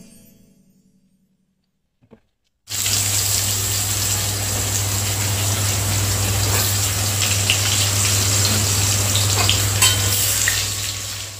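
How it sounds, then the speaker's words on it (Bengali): Potatoes fry in hot oil already used for tilapia fish. After a quiet start, a loud, steady, close sizzle bursts in and continues evenly to the end. "একই তেলে আলুটা লাল করে ভেজে নেব।"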